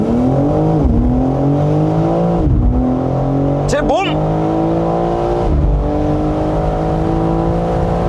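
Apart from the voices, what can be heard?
BMW M4 xDrive launch control acceleration, engine revving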